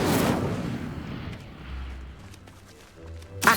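A whooshing burst of flame from the Incendio fire spell in Hogwarts Legacy opens loudly and then rumbles down into low game ambience, with a second sharp blast at the very end.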